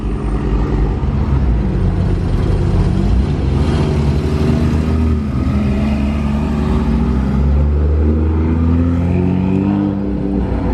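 A convoy of Mercedes AMG GT Black Series cars pulls away together. Loud, deep exhaust roars rise and shift in pitch as several engines rev and accelerate nearby, with no talk over them.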